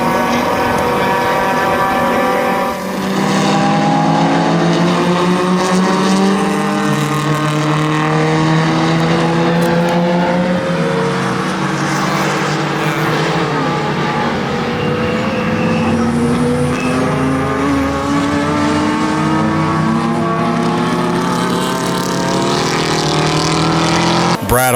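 Touring cars in a 2.5-hour enduro of the US Touring Car Championship at Sonoma Raceway roar past in a dense, continuous wash of engine noise, with rising and falling pitches from several cars as the field gets underway, loud throughout.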